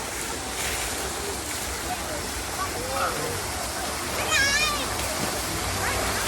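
Water from the Chan Ta Then waterfall rushes and splashes steadily in the background of an outdoor swimming spot, a constant broadband roar with a short higher voice cutting in midway.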